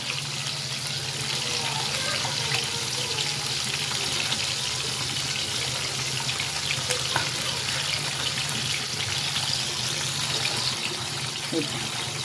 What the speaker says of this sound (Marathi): हे पा आपली मच्छी तळली जाते